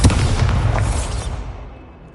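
A Bombarda blasting spell explodes in Hogwarts Legacy, one loud, deep boom with a rumbling tail that fades over about two seconds.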